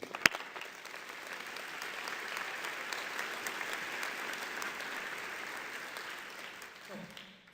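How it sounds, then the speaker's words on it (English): An audience gives a round of applause for children who spoke at a Miami Music Project event, a steady, moderately distant wash of clapping that holds for several seconds, with murmured voices beneath. "a next round of applause for them"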